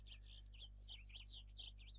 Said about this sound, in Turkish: Ve güzel kuş sesleri.